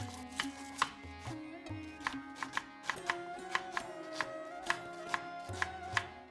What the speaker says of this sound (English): I'm going to thinly slice 4 red onions